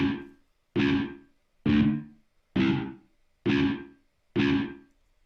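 Six evenly spaced, crunchy overdriven funk guitar stabs through a free amp plugin, each short and gritty with a quick decay, played alone at a moderate level.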